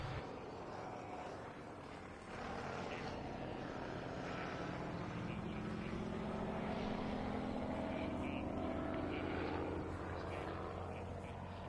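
Vintage aeroplane flying at a British airshow, a steady broad propeller-engine drone that holds loud and even throughout with a slight swell midway, with a voice talking over it.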